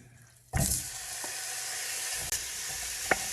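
Ground meat drops into a little hot oil in a pan and bursts into a loud, steady sizzle that keeps hissing, with a couple of faint clinks and stirring touches.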